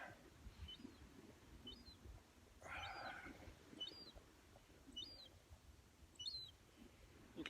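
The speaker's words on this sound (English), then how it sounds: "You can probably hear the birds in the background" Birds chirp and tweet in short, repeated calls at a state park near the shore, fairly faint and spaced out over a low rumble of wind and distant surf.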